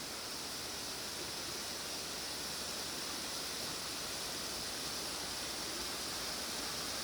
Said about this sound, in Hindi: यहाँ पर वाटरफॉल भी है